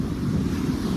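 Surf rolling onto an empty beach at Laguna as a storm moves in, a steady, loud wash of waves mixed with gusty wind buffeting the microphone, with no voices.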